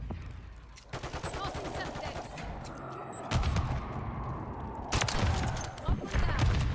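The DNA bomb killstreak goes off in Call of Duty: Modern Warfare 3 during a Kar98k match, bringing a string of loud, sharp blasts and bursts of gunfire. Heavier booms land around three and five seconds over continuous game noise.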